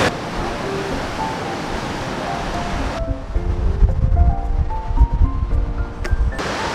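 Clear river water rushing and flowing beside a lunch spot near Grizzly Falls in Sequoia, a steady broadband wash that grows rougher and louder partway through, with scattered tonal chirps mixed in.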